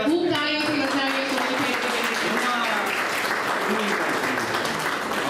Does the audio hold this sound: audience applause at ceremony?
yes